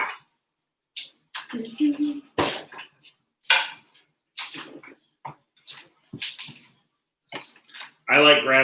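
Pans are handled in a home kitchen during cooking, with occasional metallic clanks and knocks scattered between stretches of people talking.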